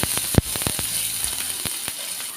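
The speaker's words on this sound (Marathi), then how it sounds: "आलं आणि लसूण घातल्यानंतर थोडंसं एखाद मिनटासाठी परतवून घ्यायचं आहे" Ginger, garlic and chili sizzle in hot oil with curry leaves and asafoetida, a steady close hiss punctuated by several sharp crackles and pops, one especially loud near the start.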